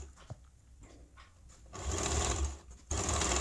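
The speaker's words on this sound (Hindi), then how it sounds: "पहले हम इसे एक साइड से स्टिच कर लेंगे यूँ, फिर दूसरी साइड से भी स्टिच लगा लेंगे" A sewing machine stitches gota patti lace onto a child's silk top, running in short stop-start bursts at first, then a louder sustained whirring run with a brief pause before it resumes.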